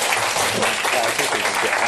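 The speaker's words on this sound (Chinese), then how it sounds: "所以我们现在就以最热烈的掌声欢迎我们今天的讲者" A lecture audience applauds to welcome a professor, with dense, steady clapping from many hands filling the room throughout.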